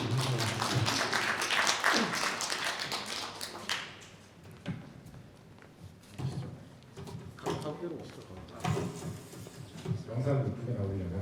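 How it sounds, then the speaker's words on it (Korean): An audience at a traditional performing arts talk concert in Suwon breaks into loud applause that fades after a few seconds, followed by scattered claps and taps under people talking. "박수."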